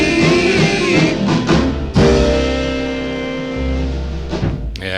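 Doo-wop vocal group record from 1956 playing clearly with sustained harmonized voices over bass and backing instruments.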